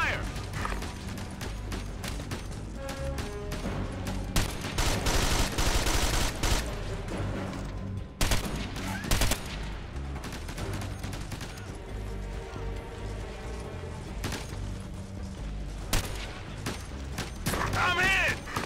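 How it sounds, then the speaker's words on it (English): Sustained automatic gunfire in the video game Ghost Recon Advanced Warfighter 2, dense bursts and clattering shots running continuously under game music and radio chatter. "I'm taking fire!"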